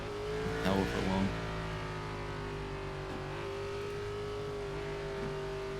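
Xfinity stock car engine from a racing video game, a continuous droning roar with a steady pitch that briefly swells near the start, then holds at a constant loud level with faint background chatter.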